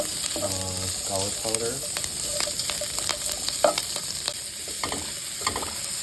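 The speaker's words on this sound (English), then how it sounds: "I'm gonna throw in my veggies, and then stir fry for a little" Vegetables stir-frying in a pan for a sausage dinner: steady close sizzling broken by repeated scraping stir strokes, with a voice speaking briefly near the start.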